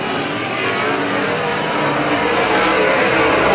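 Race cars roaring around a dirt track at Oakshade, a loud continuous engine drone with revving held throughout, no voices.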